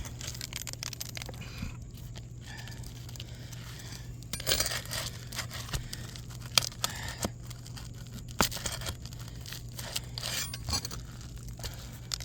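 Asphalt shingles tear over nail heads during roof removal, giving scattered faint crackles, rips and clinks against a low steady hum, sparse and fairly quiet.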